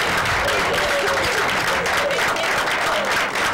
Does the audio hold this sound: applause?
yes